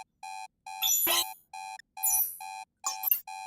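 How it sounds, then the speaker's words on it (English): Synthesized interface beeps from the Mimo sound design toolkit: a steady run of short bright electronic blips interleaved with three bursts of noisier glitchy chirps and sweeps, loud and close, with no voices. "start playing around with interface beeps"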